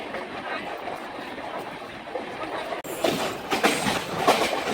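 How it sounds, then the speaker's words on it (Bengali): Heard from on board, the Sealdah–Varanasi Amrit Bharat Express runs on tracks through Dum Dum Junction with a steady rolling rumble that turns into louder clattering and rattling in the second half. "আমাদের ট্রেন এখন ক্রস করছে দমদম জংশনের"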